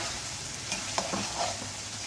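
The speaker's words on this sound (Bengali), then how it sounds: "মাছটা ভালো মতন কষা" Magur catfish being stir-fried in a pan for a tangy mango dal dish, a steady close sizzle with soft stirring scrapes of the spatula throughout.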